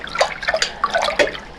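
Water with alum mordant stirred in a wool dye pot, with close, quick sloshes and drips coming in several uneven splashy bursts.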